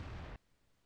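A single heavy cannon blast from an SU-8 in the video game World of Tanks booms at the start, then cuts off abruptly into near silence.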